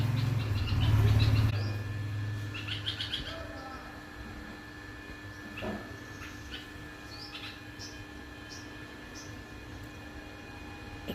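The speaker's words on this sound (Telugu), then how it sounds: "ఇది కాకుండా వేరే ఊర పిచ్చుకలు కూడా అటు చెట్ల అవి చూడండి." House sparrows and other birds chirp in trees, scattered short calls fairly faint and distant, with a loud low rumble and a brief voice near the start before the chirping continues alone.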